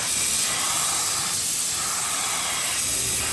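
An R500 automotive paint spray gun blows compressed air with the fluid fully open, a loud continuous hiss close by that holds steady throughout with no talking over it.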